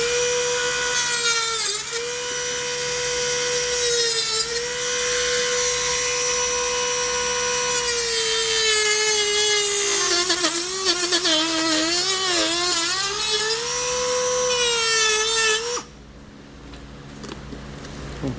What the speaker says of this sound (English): take my Dremel and get all this cut out